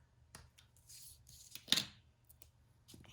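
A single snip of scissors cutting through a planner sticker sheet, a brief sharp burst standing out against light rustling of paper in a quiet room.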